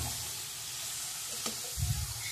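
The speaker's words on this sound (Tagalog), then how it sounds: "Ayan, haluin lang guys para ma-mix siya." Green beans and pork being stirred in a pan give off a steady quiet sizzle, with a short soft scrape of stirring near the end.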